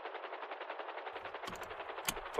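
Shotgun blasts crack out in GTA V NoPixel roleplay, a few sharp reports arriving under a steady buzzing background hum.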